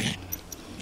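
A hostile toy poodle gives a short, close snort-growl at the start, followed by quieter snuffling breaths.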